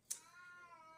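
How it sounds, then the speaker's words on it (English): A cat lets out a single clear meow that rises and then trails off in a long, drawn-out tone, close by in an otherwise quiet indoor room. "so sorry about the cat"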